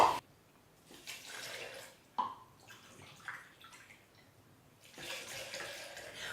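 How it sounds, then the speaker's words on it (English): Filtered water is poured from a container into a blender holding shredded coconut, coming in soft, splashing bursts separated by short pauses, fairly quiet and close. "add 4 cups of filtered or bottled water"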